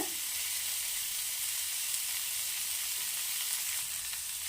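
Capsicum and cabbage sauté over a high flame with a little salt and turmeric, giving a steady, close sizzle of frying vegetables throughout, with no voices.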